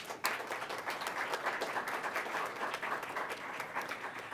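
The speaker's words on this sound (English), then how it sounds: "Let's give them a round of applause." A round of applause at a school governing board meeting, a moderate crowd clapping steadily with distinct individual claps standing out, even in level throughout and heard without talk.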